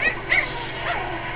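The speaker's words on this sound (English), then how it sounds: "puppies are now playing" Puppies playing indoors, giving soft, close whimpers and little yips over a steady low background hum, with no clear talk.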